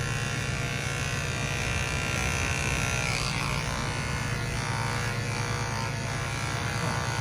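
Electric hair clipper cutting a child's hair against the direction of growth around the ear, a close, steady high buzz that runs unbroken throughout with slight changes in tone as it moves, no talking.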